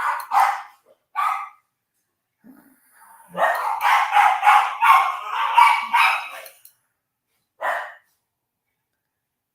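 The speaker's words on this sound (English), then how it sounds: "If these dogs ever decide to be quiet." Several dogs bark loudly and close by, first in short separate bursts and then in a long frantic run of overlapping barks, followed by a single last yap.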